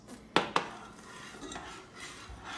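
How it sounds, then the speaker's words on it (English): Utensil clinks against a pan while honey is stirred into a heating balsamic reduction, two sharp metallic taps near the start and then soft scraping and faint stirring, close and quiet. "Just kind of stir it in here as it heats up."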